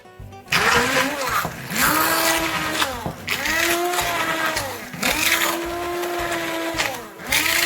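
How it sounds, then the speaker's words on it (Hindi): A blender whirs loudly through banana, its motor pitch sweeping up and dipping repeatedly as the contents churn, with brief pauses between pulses. "आप इसे किसी भी ब्लेंडर में ब्लेंड कर लें"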